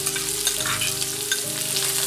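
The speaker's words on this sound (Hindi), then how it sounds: "अब हम इसमें जीरा ऐड कर देते हैं, साथ में बारीक कटा हुआ अदरक और इसको हल्का सा रोस्ट करते हैं" Cumin, finely chopped ginger and onion roast in a hot pan, giving a loud, continuous close sizzle broken by stirring scrapes, with no one speaking.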